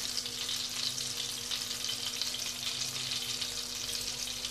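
Onion sizzling and frying in hot oil for a fall-time asparagus soup, a steady dense crackle that holds at an even level throughout with no talking.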